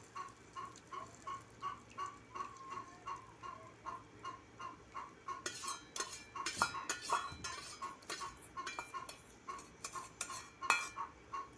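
A spoon stirs semolina roasting in oil in a pan for suji halwa, scraping and clinking in a steady rhythm that grows busier and louder partway through, close and quiet with no talk.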